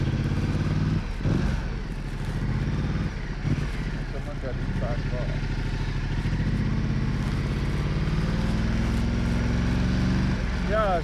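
A motorcycle engine runs steadily throughout a morning commute ride, loud and close with a continuous drone, shifting slightly in pitch with small revs and a few brief dips.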